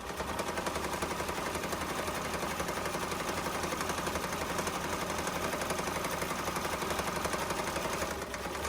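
A heavy-duty sewing machine stitches sherpa pillow fabric, running straight over pins with a fast, continuous mechanical rattle at a steady, even level from start to finish.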